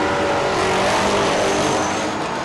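Speedway race cars roaring around a dirt track during a race, a dense continuous engine drone with no breaks, loud and sustained throughout.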